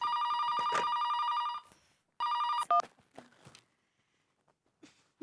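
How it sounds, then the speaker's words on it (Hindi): An indoor telephone bell rings in two bursts, fairly quiet, then footsteps approach. "फोन उठाओ। फोन तुम्हारे पास है,"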